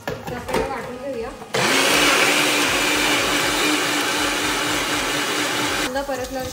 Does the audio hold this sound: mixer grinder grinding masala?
yes